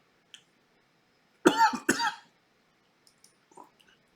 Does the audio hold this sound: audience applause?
no